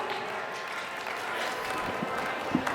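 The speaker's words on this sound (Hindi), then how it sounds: "आप नन्ही कली का जोरदार तालियों से स्वागत करें" Applause from an audience at a Hindi poetry recital welcoming a young girl poet, a steady, moderately loud wash of clapping filling the hall throughout.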